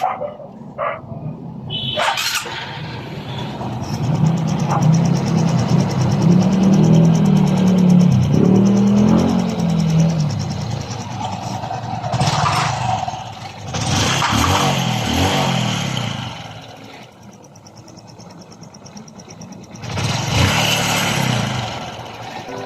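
A Honda motorcycle engine, freshly overhauled, idles loudly and steadily nearby, revving up a few times with rising and falling tone.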